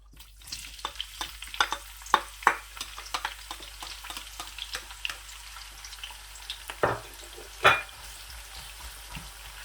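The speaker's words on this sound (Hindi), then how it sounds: "ऑयल हमारा गर्म हो चुका है, अभी मैं इसमें प्याज ऐड करूंगा।" Onions hit hot oil for keema mutter, crackling and sizzling with irregular sharp pops and scraping stirs over a quiet background.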